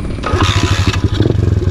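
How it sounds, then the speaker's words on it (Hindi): A dirt bike engine catches and settles into a rough, rapid putter, the low throbbing pulses loud and close with some mechanical clatter on top. "ये हो गई हमारी बाइक स्टार्ट।"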